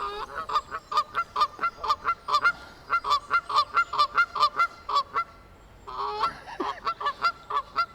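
Geese honking at a park pond in Bramhall, with ducks nearby: a loud, close run of rhythmic repeated honks, broken by a short pause before the calling resumes.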